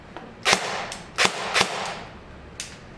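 A hobbyist's replica gun fires simulated shots: four or five sharp, dry cracks in an uneven sequence, close and fairly loud, with short quiet gaps between them.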